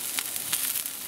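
Food sizzles steadily in a hot pan while being stirred for a pot roast sloppy joe, the frying hiss fairly quiet and close with small crackles and no talk.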